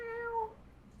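A domestic cat gives a single clear, drawn-out meow close by, fading out after half a second over a low steady hum, with no talking.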